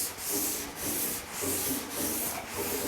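Hand block sanding across painted sheet metal on a 1950 Chevy truck fender, steady close rasping strokes in a back-and-forth rhythm, about five passes with brief pauses at each turn, no talking.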